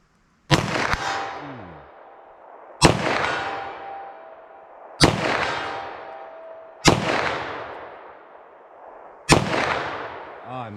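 Five loud, sharp gunshots from a .357 SIG handgun firing Hornady 147 gr XTP rounds, spaced about two seconds apart outdoors, each with a long rolling echo that fades before the next.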